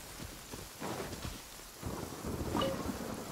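Rain falls in Genshin Impact, a steady wash of rainfall with gusts of wind and low rumbles, moderately loud and continuous with no talk.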